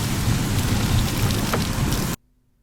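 Steady, loud rain pours down with a low thunder rumble underneath, filling the scene closely before cutting off abruptly into near silence.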